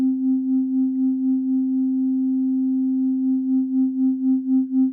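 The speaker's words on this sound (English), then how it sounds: "if I turn up the tremolo, watch what happens to our sine wave. Okay, so we've got some wobble." A steady sine tone from the Things - Motor rotor effect app on iOS, with tremolo applied so the pitch holds constant while the level wobbles in a regular pulsing rhythm, growing deeper toward the end; no voices.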